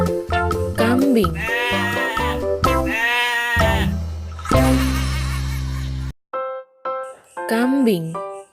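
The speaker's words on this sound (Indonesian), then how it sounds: "Kambing." A toy goat plays loud, close bleating calls, several wavering bleats one after another with brief gaps and a short break in the middle, sounding recorded and slightly electronic.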